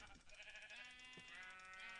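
A sheep in Minecraft bleats a few times, faint and wavering, over a continuous background hum and music-like tones.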